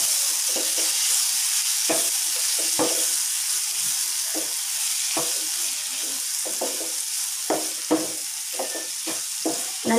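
Onion, tomato and Kashmiri chili powder masala for paneer masala being stirred and sautéed in a pan, with a steady low sizzle and repeated scraping stir strokes close by, no talking.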